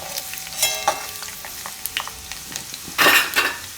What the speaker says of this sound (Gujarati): થોડુંક લસણ લાલ થવા દેવાનું.